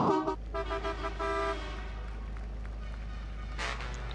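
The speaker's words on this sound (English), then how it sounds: "Norbert Kish, honking the horn, as is pretty much obligatory from Norbert Kish in towards the pit lane." The horn of a racing semi truck toots a few times in quick succession at a truck race, heard over the steady drone of the engine.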